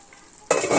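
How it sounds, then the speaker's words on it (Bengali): Spice paste and goat liver hit a hot wok with a sudden, loud sizzle after a near-silent moment, the frying hiss continuing steadily and close up. "তো চলো কষিয়ে নি, তারপর আসছি। এর মধ্যে আমি দিয়ে দেবো মেটেগুলোকে।"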